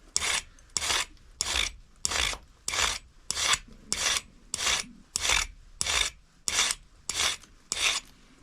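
Rhythmic abrading of a flint knapping tool to sharpen it, about a dozen evenly spaced rasping strokes, close and fairly loud, with short pauses between each pass.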